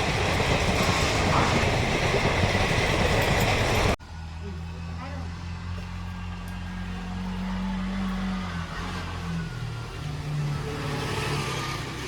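A train rumbles loudly, then the scene shifts to the steady hum and rattle of a moving carriage, with people talking over it.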